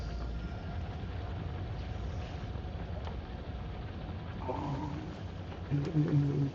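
A steady low rumbling drone from a factory video game, with a brighter tonal hum rising near the end as the engine starts up. A voice talks faintly over it.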